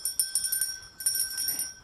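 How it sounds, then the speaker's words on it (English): A hand bell is rung over and over during a live-streamed jewelry sales broadcast, bright ringing strikes in quick bursts with a sustained metallic tone, close and fairly loud. "Why am I ringing the bell, guys?"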